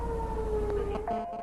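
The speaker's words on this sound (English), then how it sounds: "40 seconds after his initial call for help, a siren wails." A fire station siren summoning volunteer firefighters wails faintly in the distance, its tone sliding slowly over a low background rumble.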